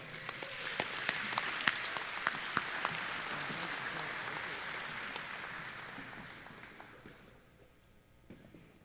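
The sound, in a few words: banquet audience applause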